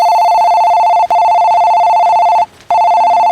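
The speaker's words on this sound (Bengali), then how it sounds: "ঠিক তখনই বেজে উঠল ঘরের ল্যান্ডলাইন ফোনটা।" A landline telephone rings in a Bangla horror audio story, giving loud electronic ring tones in bursts with two short gaps between them, alone and close.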